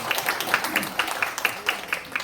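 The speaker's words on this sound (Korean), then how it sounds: "이런 말씀드리면 박수 한번 나와야 되는데" An audience at a lecture breaks into applause, a sustained patter of many hands with distinct rhythmic clap peaks, fairly loud and near, with no speech over it.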